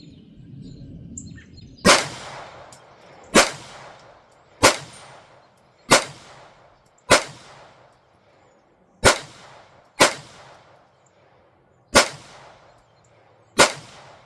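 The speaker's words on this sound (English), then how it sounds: "I hit the steel plate on my first shot." Kel-Tec P17 .22 rimfire pistol fired at a steel plate: about nine sharp, loud shots spaced one to two seconds apart, each with a brief ringing decay and no talking.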